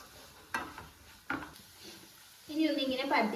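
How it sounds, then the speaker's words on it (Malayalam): Cooked tomatoes being stirred in a pan for a tomato egg fry: two soft scraping strokes, then a steadier sizzling stir, close and moderately loud, with no talk. "ഒന്നുകൂടി ഇളക്കി യോജിപ്പിച്ചെടുക്കാം"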